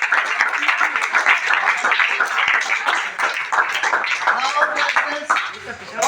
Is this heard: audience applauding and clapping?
yes